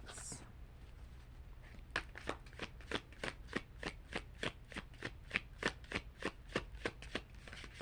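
A deck of tarot cards being shuffled during a card reading, a steady run of crisp riffling bursts repeating roughly every third of a second, close and clear over a low background hum.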